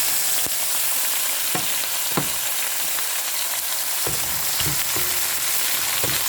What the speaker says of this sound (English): So saute this for maybe 1 minute until the spices are infused all together lovely